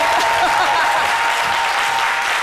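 A TV studio audience on a French midday show bursts into loud, sustained applause, a thick continuous roar of clapping with no pauses.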